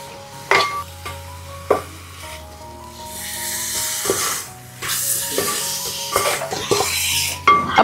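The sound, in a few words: stirring chicken pieces into tomato masala in a pan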